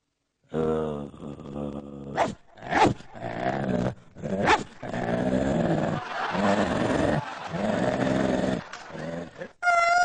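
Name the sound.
imitation of a dog growling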